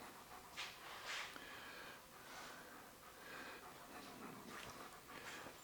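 Dogs pant steadily indoors, soft rapid breaths with a few sniffs and snorts, faint and close against a quiet room.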